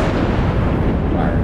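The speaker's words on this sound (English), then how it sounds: "We empty out our salvo" The USS New York battleship in World of Warships fires a salvo of heavy guns, a loud, dense, sustained rumbling roar of blasts with no clear gaps, dominating throughout.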